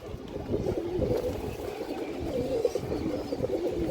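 A large Giribaj high-flyer pigeon coos amid a low, steady murmur from nearby pigeons, moderately loud and without talk.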